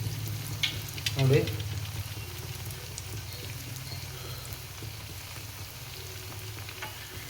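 A sweet dessert fries in hot oil, giving a soft steady sizzle with a brief louder splash as a piece drops in, while someone speaks quietly over the cooking.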